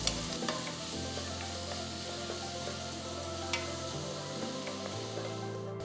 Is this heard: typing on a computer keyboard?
no